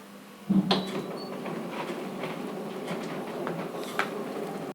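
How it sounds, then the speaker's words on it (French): Motorized window shutters close on a voice command in a home automation setup, a low mechanical hum running steadily after a sharp start, with small clicks and knocks along the way. "Ok Google, ferme les volets."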